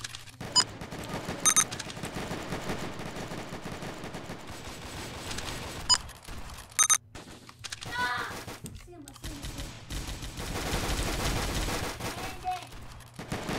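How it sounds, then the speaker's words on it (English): Rapid bursts of gunfire from a Roblox team shooter game crackle across the scene, sharp volleys and single shots mixed with busy background game noise and someone talking over parts of it. "There's a guy trying to shoot me from the other doorway"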